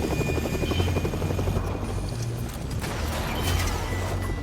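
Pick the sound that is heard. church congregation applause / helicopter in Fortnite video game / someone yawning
helicopter in Fortnite video game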